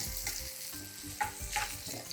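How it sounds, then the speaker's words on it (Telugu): Low-carb idli mixture is stirred in a hot pan, with steady close sizzling and frying and repeated soft scraping strokes of the spoon, no talking. "మధ్యలో ఇలా కలుపుతూ ఉండండి."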